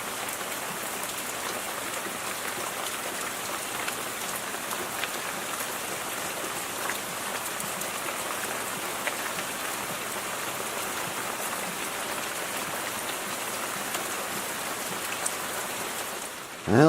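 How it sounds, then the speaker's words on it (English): Steady rain falls outside a cabin in Alaska in spring, a constant broadband patter on surfaces with no pauses, carrying evenly for the whole stretch before a brief bump at the very end. "day 2, still raining"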